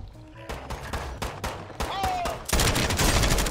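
Gunfire in a Call of Duty match: a series of sharp shots in quick bursts, ending in a dense loud volley, with faint player chatter underneath.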